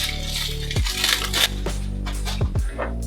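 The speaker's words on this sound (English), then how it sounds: "Unwrap the candle." Plastic wrapping crinkles and crackles close up as a candle is unwrapped for a fresh pine Christmas table arrangement, in a few short rustling bursts over a steady background hum.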